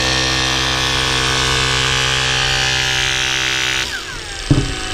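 Battery-powered hydraulic combination spreader-cutter rescue tool with its motor running in a loud, steady harmonic whine that winds down and stops near the end, followed by a brief clunk.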